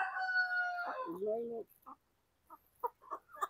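A Basilan native rooster crows once, loud and close, its call falling in pitch at the end; a few soft clucks and scattered faint chicken sounds follow.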